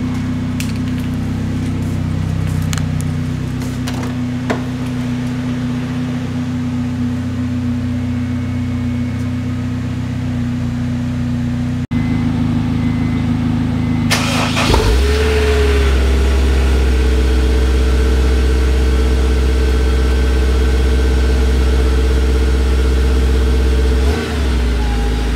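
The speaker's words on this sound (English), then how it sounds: "Let's go ahead and start up the last car, the S2000, and pull her out of the garage." A Honda S2000 sits idling in a garage with a steady mid-pitched hum, then its engine revs up sharply and settles into a louder, rougher drone as the car pulls out.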